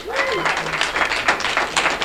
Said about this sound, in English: And while you're clapping, please keep it going for your middle act this evening, Bret Hayden.